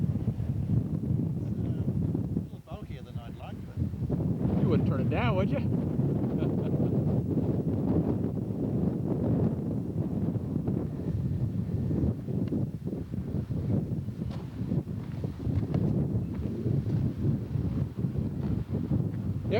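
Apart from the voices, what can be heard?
wind blowing at outdoor scale aircraft show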